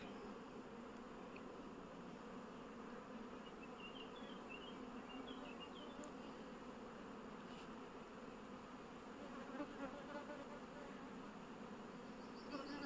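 Honeybees buzz steadily around a weak colony at an open hive, a soft, continuous hum of many insects that stays even throughout.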